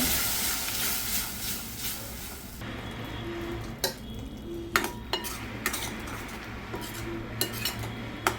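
Garlic-ginger masala for a mutton dish stirred in a hot pan, soft sizzling under repeated metal spoon scrapes and clinks against the pan, close and irregular.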